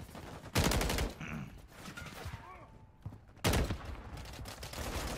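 Hip-fired gunfire in a shooter video game comes in two loud, close bursts of rapid shots, with quieter game sounds and faint noise between them.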